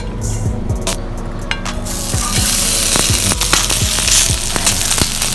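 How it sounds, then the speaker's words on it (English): Steady hot sizzling and crackling of pork blood stew frying on a hot sizzling plate, loud and close, with occasional clinks and pops throughout. "Got our hot sizzling plate"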